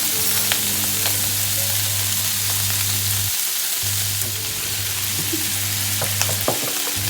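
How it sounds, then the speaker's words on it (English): Sun-dried tomatoes hit a hot pan while pesto pasta cooks, giving a steady close sizzle and frying crackle with a brief drop in the low hum midway and light stirring clinks, no talking. "And then we're going to add our sun-dried tomatoes."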